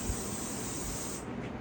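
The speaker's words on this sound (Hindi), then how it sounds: "hair spray" Hair spray hisses from an aerosol can in one steady, close burst lasting more than a second while a bridal hairstyle is set, with no talk.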